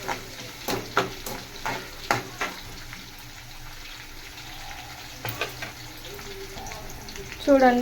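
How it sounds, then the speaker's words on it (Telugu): Onions frying in a pan for green chilli chicken, a steady sizzle with repeated spatula scrapes and clanks, a brief spoken word over it and a louder hiss of liquid at the end. "ఫ్రై అయితే అయినాయి, ఆనియన్స్ ఫ్రై అయిపోయినాయి"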